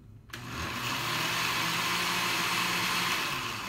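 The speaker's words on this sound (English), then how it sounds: "I'm gonna go ahead and put in our cilantro, and I'm gonna put it to chop really fast" A blender chops cilantro into a red salsa, a close, loud, steady motor whir that starts abruptly and runs without a break.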